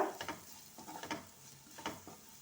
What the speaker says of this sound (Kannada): ಇದು ಹಾಕ್ತೇನೆ ಒಂದು ಮಿನಿಟ್ ಫ್ರೈ ಮಾಡುವ